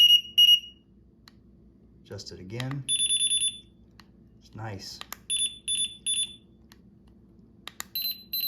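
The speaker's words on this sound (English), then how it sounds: "Get all kinds of different beeps." A JUGBOW DT-61 dog training collar remote gives short electronic beeps at several different pitches, in clusters of quick repeated chirps separated by pauses, while someone talks briefly between them.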